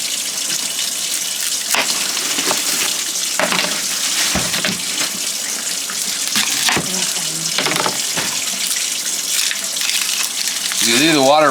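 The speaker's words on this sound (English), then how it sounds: "you leave water running when you cut an onion." Tap water runs continuously in a kitchen sink while an onion is cut for pork chop suey, with clatters and knocks over the flow and a brief voice at the end.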